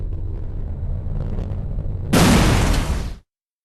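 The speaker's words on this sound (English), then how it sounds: "Hold down the fire button to secure the coordinates, and the weapon will fire on your target." An artillery strike lands in the video game Enemy Territory: Quake Wars, a sudden loud roaring blast that cuts in over low rumble and holds for about a second before stopping abruptly.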